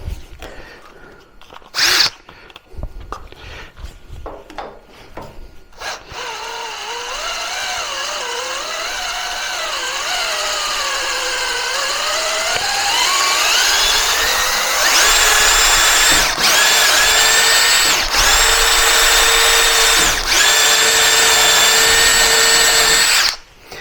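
A Metabo GB18LTXBLQ cordless tapping drill runs loudly, with short bursts and a varying whine at first, then a steady high-pitched motor drone with a few brief dips in speed.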